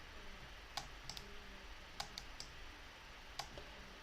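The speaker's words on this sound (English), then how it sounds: "I can push straight down on that scrolling wheel and then right click" A computer mouse scroll wheel is pressed and the mouse right-clicked, about half a dozen sharp, faint clicks spaced irregularly in a quiet room.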